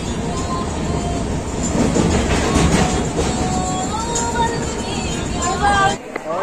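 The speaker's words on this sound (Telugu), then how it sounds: "ఇదండి మేము వచ్చిన ట్రైన్" A passenger train on the Vizianagaram to Tirupati route runs on railway tracks with a steady loud rumble and rattle throughout, close by, while people talk over it.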